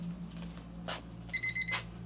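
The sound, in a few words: kitchen timer alarm ringing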